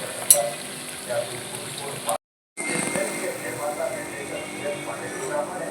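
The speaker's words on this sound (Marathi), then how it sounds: "त्याला फ्राय करतो. छान ब्राउनिश करून घ्यायचं." Fry bread dough sizzles and crackles steadily in hot oil in a pan, a continuous frying hiss with small pops that drops out briefly midway and then resumes.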